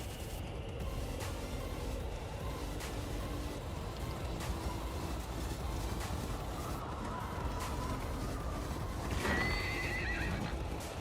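Horses in the video game Darkest Dungeon 2, with steady hoofbeats and rolling travel noise throughout and a loud neigh late on, set against a dense game soundscape.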